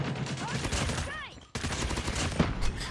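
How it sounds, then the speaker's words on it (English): Rapid bursts of enemy gunfire in a first-person shooter hardpoint match, with a zappy, laser-like quality, coming in dense volleys that break off briefly and then resume at a strong level. "Oh, what the hell is that guy using, bro? Sound like a laser gun."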